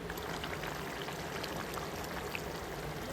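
Water pours into a pan of cooking mutton liver on a gas stove, making a steady, continuous hissing rush from start to finish with no voices.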